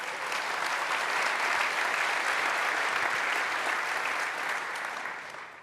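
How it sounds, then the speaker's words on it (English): Steady audience applause for a guest from the Mercedes AMG Petronas Formula One team at a Pure Storage event, a dense wash of clapping that holds evenly for several seconds before tapering slightly at the end. "So quick round of applause for Matt, please."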